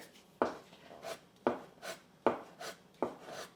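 A sharp knife slices through folded, floured sheets of rolled egg pasta dough on a board, four soft, evenly spaced chopping strokes, each with a quiet follow-up scrape, close and faint with no talking.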